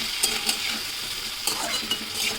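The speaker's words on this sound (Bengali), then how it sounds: "দিয়ে সবজিটা আবার কষিয়ে নেব।" Vegetables sauté with turmeric and cumin powder for a broken-wheat khichdi, a continuous close sizzle punctuated by several quick scraping stirs of a spatula against the pan.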